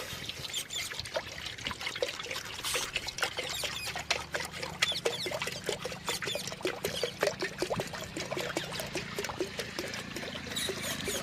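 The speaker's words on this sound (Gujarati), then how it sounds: "આપણે એક તપેલું લઈ લીધું, એને ગરમ કરવા મૂકી દીધું। એમાં આપણે પાણી નાખી" Water poured into a pot heating on an outdoor stove for cooking urad dal, a steady trickling and splashing stream running for several seconds with irregular patter, fairly faint against open-air background.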